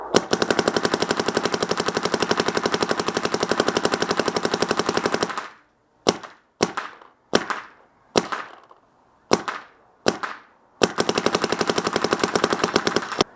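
Empire Vanquish 2.0 paintball marker firing at about 12 PSP: a long rapid-fire burst, then a string of single sharp shots with short gaps, then another sustained rapid burst, loud and close.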